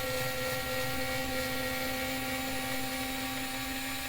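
An Aleapow mini cordless electric screwdriver with an angled chuck whirs steadily as it drives a screw into a pre-drilled hole, a continuous close motor whine with no pauses.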